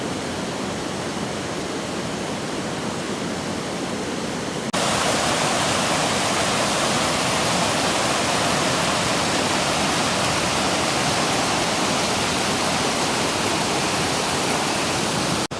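Hunt Fish Falls in the North Carolina mountains pours in a constant, close, loud roar of rushing water that grows noticeably stronger partway through, with no voices.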